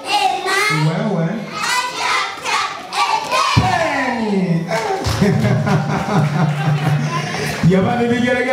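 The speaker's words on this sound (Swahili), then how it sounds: "vigelegele zimesikia pamoja na makofi jamani" At a school graduation a crowd claps, cheers and ululates, with children's voices and bursts of clapping mixed throughout the lively, close din.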